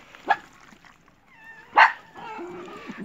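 Farm dogs being fed alongside quail and other poultry give a couple of sharp, short barks and yips, close by, with whimpering tones and some low background noise between them.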